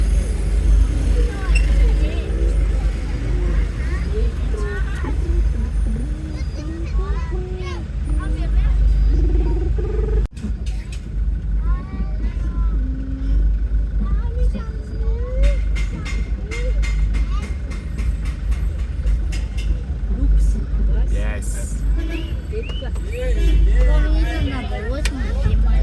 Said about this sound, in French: Regardez encore comment là-bas devant il y a les embouteillages